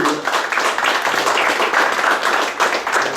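Restaurant audience at the Fourchette d'or 2017 awards in Levallois-Perret applauding steadily, a dense wash of clapping that stays loud and even for the whole stretch.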